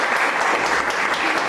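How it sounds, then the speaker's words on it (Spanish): Loud, dense audience applause at a doctoral student literature colloquium after a poetry reading, a continuous close clapping that fills the whole short stretch without talk. "Un fuerte aplauso"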